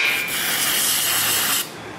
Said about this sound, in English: I like to spray some carburetor spray on there